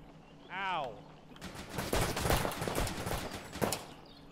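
Dense gunfire in the first-person shooter Intruder, with rapid overlapping bursts and shots, loud and close, continuing without a break for most of the clip after a brief voice at the start.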